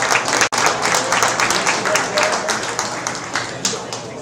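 Steady applause from the audience at a small animal show, many hands clapping close and fairly loud, with a brief dropout near the start and faint voices mixed in.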